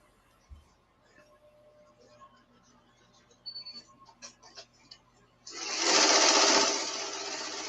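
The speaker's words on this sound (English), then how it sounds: "So now it's just doing the tack down." Embroidery machine stitching an applique tack-down line, a quiet patch of faint ticks and small clicks giving way to a loud, dense whirring run of rapid stitching toward the end.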